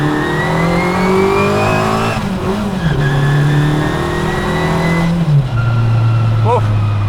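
A classic Mini Cooper with a Specialist Components twin cam 16-valve engine accelerates hard, its loud engine note climbing steadily through two gearshift dips before a final rising pull, with brief talk over it.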